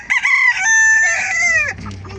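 A decorative-breed rooster crows loudly and close, one long harmonic call that rises then trails off, followed by a brief clucking murmur.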